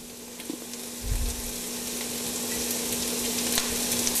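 Carrots sizzle steadily in a frying pan while being stirred for a veggie filo bake, with a low clunk of the utensil early on and a constant soft frying hiss throughout.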